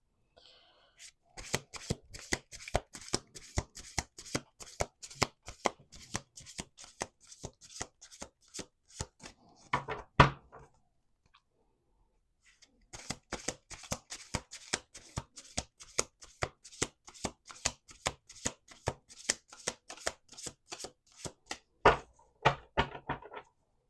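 Tarot cards are shuffled in two long bursts of rapid riffling slaps, separated by a brief pause, close and crisp with no talking.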